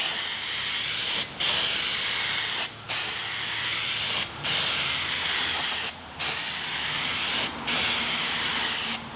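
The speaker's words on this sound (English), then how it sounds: "when you spray it wet, the PlastiDip is going to self-level" A PlastiDip spray can hisses onto a panel in five long, even bursts, each cut by a brief pause, loud and close with no talk.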